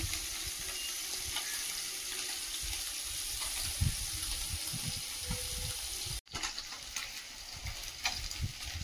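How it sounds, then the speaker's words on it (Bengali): Small mourala fish fry in a pan of hot oil with a steady, close sizzle and crackle that runs throughout, broken by a brief drop near the end before the hiss resumes. "মাছ ভাজা হতে হতে শাপলাগুলো কেটে নেব"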